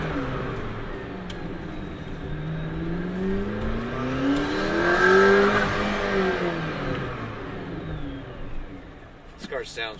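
McLaren P1 engine revving, a loud rising and falling swell of engine tone that peaks in the middle, heard from close by with a steady drone before and after.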